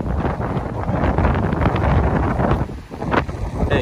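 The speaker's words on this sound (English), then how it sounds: "you can see over here how windy it is." Strong wind roars and buffets the microphone on a fishing pier in Tampa Bay, Florida, a steady loud rushing that dips briefly near the end.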